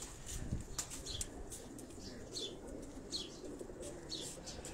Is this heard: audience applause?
no